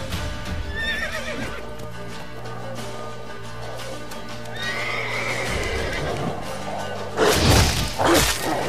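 A horse in The Witcher 3: Wild Hunt whinnies and snorts with clopping hooves and whooshing swings, loud game-style effects with a louder burst near the end.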